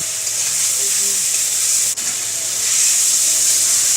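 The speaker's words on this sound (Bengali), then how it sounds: "সমস্ত উপকরণ একসঙ্গে ভালোভাবে কষিয়ে নিতে হবে" Cumin, turmeric and other spices sizzle steadily in a hot pan while being sautéed for paneer masala, a close continuous hiss with one brief clink of a utensil.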